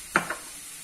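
Meat dropped into a hot pan for a kofta and cheddar tagine, giving two short bursts of sizzle, a sharp one followed by a softer one, then quiet.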